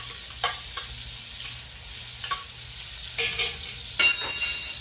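Smoked sausage browns in a pan for Cajun pastalaya, a constant close sizzle broken by occasional scraping stirs, with louder sputtering bursts near the end.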